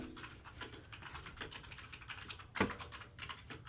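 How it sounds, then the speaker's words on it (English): Someone types steadily on a computer keyboard, a quiet patter of rapid key clicks with one louder keystroke partway through, close and alone without talk. "A lot of typing, Jen."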